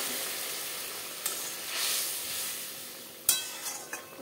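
Hot water poured into sizzling fried spice masala for Bengali masoor dal with drumstick and potato, giving a broad steaming hiss and sizzle with a few sharp crackles and stirring clinks near the end.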